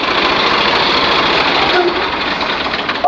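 A tractor engine idles loudly and steadily close by, a continuous rattling chug that holds throughout.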